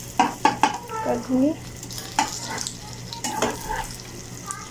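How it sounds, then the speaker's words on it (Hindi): Egg-coated kebabs for an egg bun burger frying in a pan at a street stall, with a soft sizzle under brief bursts of stirring and spatula scrapes, while someone speaks over it. "कबाब जो है वो फ्राई हो रहे हैं।"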